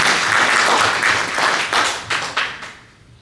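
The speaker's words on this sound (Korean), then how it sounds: "박수 해주시기 바랍니다." An audience at a Korean-American community New Year prayer breakfast claps loudly and steadily for about three seconds, then the applause thins and fades out.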